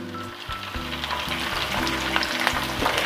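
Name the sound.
frying anchovies (ikan teri) in oil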